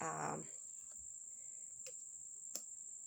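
Crickets chirp in a continuous high, steady trill in a backyard with many trees, joined by a brief voice at the start and a couple of faint clicks.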